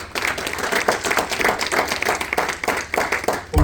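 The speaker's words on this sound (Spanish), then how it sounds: "Denle un aplauso al Señor" A church congregation applauds in steady, dense clapping that fills the space, with bursts of louder hand claps throughout and a few indistinct voices underneath.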